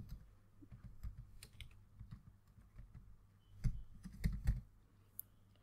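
Typing code on a computer keyboard during an Android Studio programming session: quiet, steady key clicks with a brief denser burst of taps, close to the microphone and heard alone without talk.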